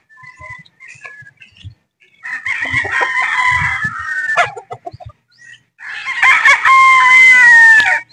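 Boston Roundhead chickens cluck softly in short bursts, then roosters crow loudly twice nearby, the second crow long and drawn out at the end.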